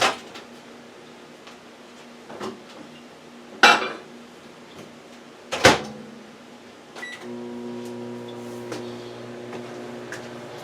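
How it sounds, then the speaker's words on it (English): A microwave oven heating chili and cornbread sets up a steady low hum and drone, preceded by clinks of dishes, door clunks and a couple of sharp beeps or clicks. "now I'm going to put this in the microwave for 1 minute"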